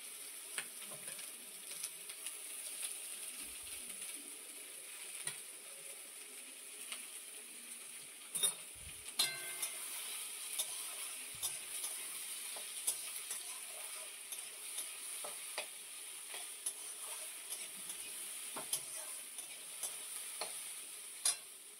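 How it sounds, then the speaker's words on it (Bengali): Onions in hot oil give a faint, steady sizzling hiss with scattered soft scrapes and clicks from stirring, continuous for over twenty seconds with no talk. "এবার তেলে পেঁয়াজগুলো দিয়ে দেবো। তেলটা গরম হয়ে গেছে,"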